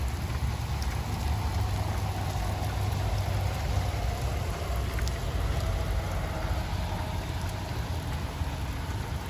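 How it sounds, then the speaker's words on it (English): Steady, dense rain hisses continuously on surfaces along the Appalachian Trail, with a constant low rumble underneath and no voices. "More rain and lightning."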